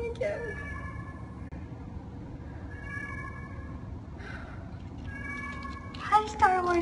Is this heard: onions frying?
no